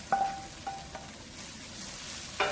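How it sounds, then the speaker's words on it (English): Sausage and ground beef fry in a pan for an Indomie noodle dish, a soft steady sizzle with a few sharp scraping clicks near the start and end, close and fairly quiet with no talk. "We're going to add our sausage and our ground beef to mix."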